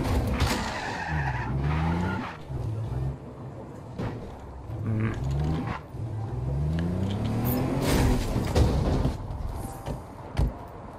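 Video game car in Just Cause 3 driving with a steady engine hum, its pitch rising and falling as it accelerates, broken by repeated tire squeals and skids, with scattered clunks and impacts throughout.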